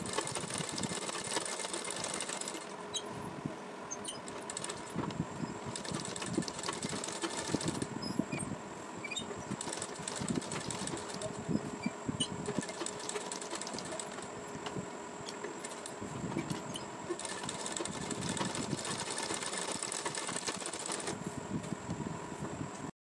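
A home sewing machine runs steady stitches along a suit seam at raised tension and stitch length around 2.5, a continuous close mechanical whir that stops and restarts in several bursts, with no talking.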